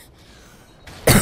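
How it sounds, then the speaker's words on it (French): A single short, loud cough bursts out near the end of a quiet stretch, close to the microphone during a live game stream, with no talking around it. "Comment j'ai toussé n'importe comment"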